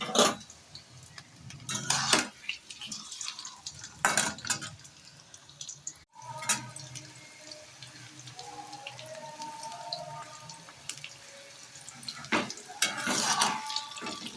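Potatoes fry in a pan for a fish-head cabbage dish, a faint steady sizzle broken by several loud bursts of spatula scraping and stirring, with quiet clinks between.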